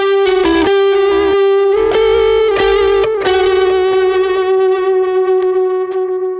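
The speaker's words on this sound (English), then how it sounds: "but then I bring in some delay that's tapped into the right tempo of the song" Electric guitar through a Boss ES8 rig, with a blues drive pedal and a delay tapped to the song's tempo, playing a part. Sustained, slightly distorted notes ring out loud and alone, with repeats trailing behind each phrase.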